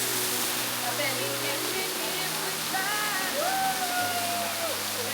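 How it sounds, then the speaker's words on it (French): A waterfall at a bathing spot in Brazil pours in a steady broadband rush, while a singer's song plays over it and a voice briefly speaks. "Une cascade en baignade."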